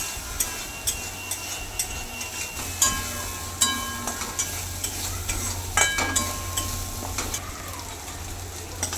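Paneer masala frying in oil while being stirred: a constant sizzle with repeated clinks and scrapes of a utensil against the pan, close and fairly loud, with no talking.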